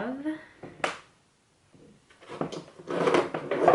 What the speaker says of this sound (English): just opening up my drawer, one second.